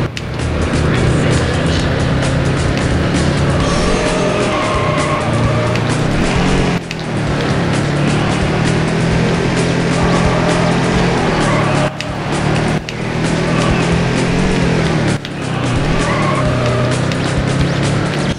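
A Chevrolet Camaro roars steadily in a Need for Speed: High Stakes race, its loud engine drone holding high revs throughout with brief dips at gear shifts and road noise underneath.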